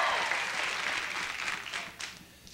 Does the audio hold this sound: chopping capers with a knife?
no